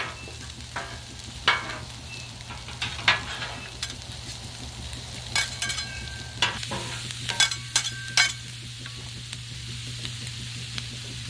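Mushrooms sizzling on a Blackstone griddle under a steady low hum, with a spatula scraping and stirring in sharp, irregular clacks across the hot flat-top.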